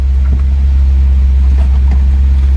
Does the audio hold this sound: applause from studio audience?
no